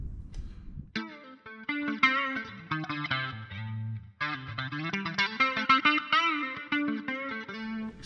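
An electric guitar played through a Line 6 Helix preset modeled on a blackface Fender amp sounds a dark, lush chord-and-note phrase with chorus and echo, clear and close, pausing briefly midway.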